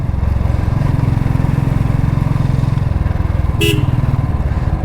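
Motorcycle riding a Himalayan mountain road in Uttarakhand, its engine a steady close drone throughout, with a brief horn-like burst near the end.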